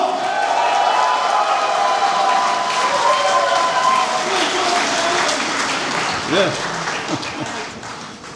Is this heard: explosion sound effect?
no